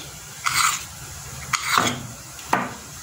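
Fish filling for stuffed crepes stirred and fried in a pan, three distinct scraping strokes of a utensil across the pan over a low background sizzle, close and fairly loud with no talking.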